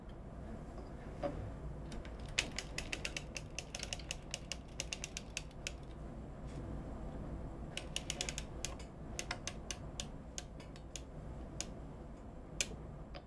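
A circular sock knitting machine cranks steadily with a run of sharp mechanical clicks and ticks, close and fairly quiet, over a low background hum while hand-painted sock yarn is worked.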